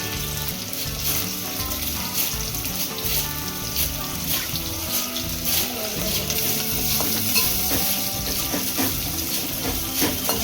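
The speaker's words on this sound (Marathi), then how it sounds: "कांदा चांगला भाजून घ्यायचा लाल होईपर्यंत" Chopped onion frying in a pan with whole spices, a loud steady sizzle under busy stirring and scraping, with a tonal hum running throughout and no speech.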